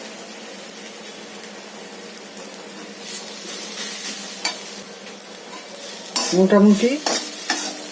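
Tilapia for a Bengali fish curry frying in mustard oil in a pan, a steady soft sizzle throughout that turns louder and more crackly near the end as stirring picks up, with a brief spoken word.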